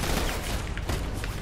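During a Fortnite boss fight, an enemy fires guns in a busy stretch of loud, overlapping shots, with a steady rumble and scattered cracks filling the whole moment.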